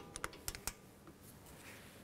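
A torque wrench clicks several times in quick succession while tightening front brake caliper bolts on a 2013-19 Nissan Sentra, four sharp close clicks followed by quiet.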